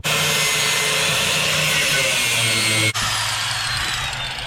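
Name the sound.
power tool cutting through metal while sharpening hay mower blades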